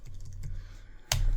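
Computer keyboard typing while a name is entered into an Excel spreadsheet: a steady run of close key clicks over about a second, ending in a sharper, louder keystroke.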